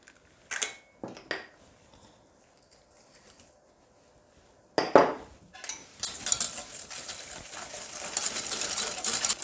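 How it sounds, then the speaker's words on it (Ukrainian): Three eggs and sugar whisked in a bowl, quick scraping clinks of the whisk against the bowl in short bursts at first, then a steady, louder run of rapid beating that fills the second half. "Зіб'ємо три яйця з цукром."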